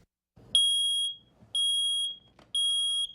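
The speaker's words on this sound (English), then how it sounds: "Faulty fire alarms are one of the more common problems Fargo inspectors see." An electronic smoke alarm in an apartment, faulty, sounds three loud, piercing beeps, each about half a second long and evenly spaced, with quiet gaps between.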